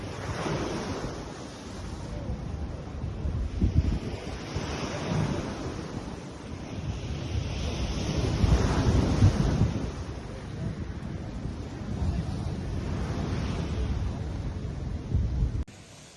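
Sea waves wash ashore beside a seaside restaurant, a continuous rumbling surf with several swelling crashes and steady wind noise on the microphone, loud and close.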